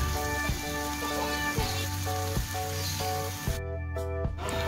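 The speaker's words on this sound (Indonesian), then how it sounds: "untuk salmonnya Mama mau tumis terlebih dahulu nih dengan sedikit mentega" Salmon sautéing in a little butter in a pan, a steady close sizzle and spatter running throughout, with a low recurring hum or tone pattern underneath and a brief dip near the end.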